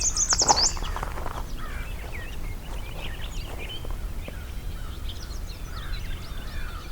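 A gray catbird gives quick chirps and mews in a swamp while American crows call faintly in the background, scattered calls over a soft ambient hiss.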